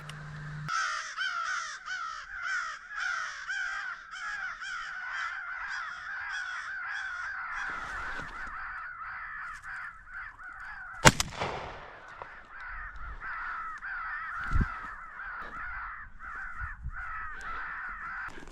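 Crows caw repeatedly in a busy, continuous chorus during a crow hunt, cut once by a sharp, loud bang, then the cawing carries on at a similar level.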